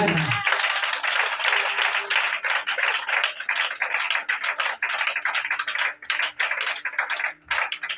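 A church congregation claps and cheers together, a dense sustained wash of applause and acclamation, with voices mixed in throughout.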